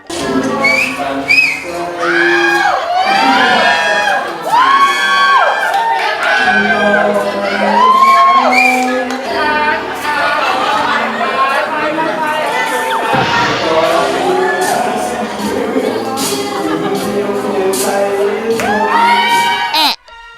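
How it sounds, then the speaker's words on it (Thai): A studio audience at a Thai TV show screams and cheers loudly and continuously, high-pitched shrieks and whoops over music and a singing voice, building and sustained to the end. "เริ่มต้นที่อันวิทยา ซึ่งร้องไป ได้รับเสียงกรี๊ดไปตลอดเวลา"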